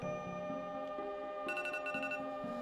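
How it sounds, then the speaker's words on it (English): A timer alarm rings in repeated electronic beeping tones, steady and fairly close, with no talking over it. "That's the timer, everybody"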